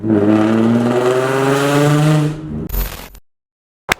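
Nissan 350Z fitted with a new Nismo exhaust, revving loudly and close for about two and a half seconds, then a sharp burst, a brief drop to silence and one last short blip.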